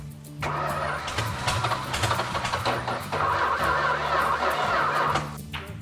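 A Richard Petty blue edition Plymouth Superbird with no carburetor cranks over and catches, running roughly for several seconds as a loud, steady, close-up engine before cutting off.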